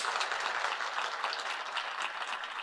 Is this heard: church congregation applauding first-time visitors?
yes